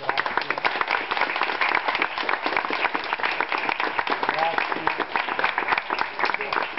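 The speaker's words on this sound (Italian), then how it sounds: "Io applaudo a voi" Audience applause at a book presentation ceremony, dense steady clapping from a large crowd filling the whole stretch without a break, loud and close.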